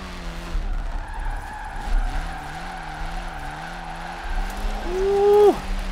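A car in the LEGO Valley video game drifts with a steady tire skid over a revving engine whose pitch wavers up and down, ending with a sharp rising squeal, loud and close, with no talking.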